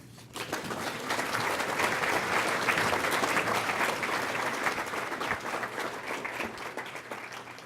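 Sustained applause from an audience at the Poinsettia Awards ceremony, a dense, even wash of many hands clapping that swells quickly, holds steady at moderate loudness for several seconds and then thins slightly toward the end.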